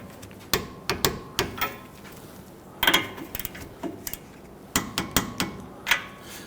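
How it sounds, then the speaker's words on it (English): A torque wrench tightens the 17mm sway bar link bolts on a 2010-2019 Ford Taurus, giving a series of sharp metallic clicks and ratcheting ticks, close up over a steady background hiss. "Now we're going to torque these down to 41 foot-pounds."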